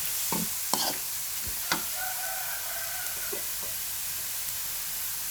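Yira leaves stir-fried in a pan, giving a soft, steady sizzle with a few scraping stirs of a utensil near the start, fairly quiet and without speech.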